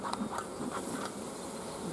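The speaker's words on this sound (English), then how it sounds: "Bees are a little warm." Warm, agitated bees at an opened hive give a dense, continuous buzzing drone with quick flickers of louder buzz as single bees fly close.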